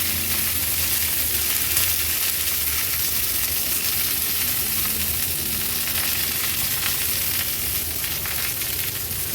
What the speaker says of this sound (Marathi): आता आपण हे टोमॅटो पलटून घेणार आहोत